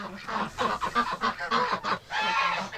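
Geese and ducks penned up for winter honk repeatedly at close range, a rhythmic run of nasal calls in quick succession with a brief pause before a final longer honk.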